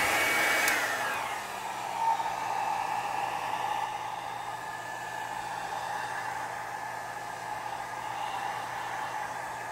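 A hair dryer blows steadily on alcohol ink artwork, a close, continuous whoosh after a brief start, holding an even hum to the end with no talking.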